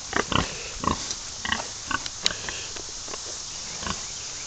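Farm pigs grunt in short, separate bursts close by, about a dozen snorty calls spread unevenly over a steady background hiss, with no talking.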